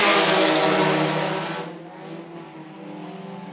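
Sport compact race cars roar together at a dirt-track raceway as the green flag drops, a loud dense engine wash that swells at first and then eases into a steadier, more distant drone.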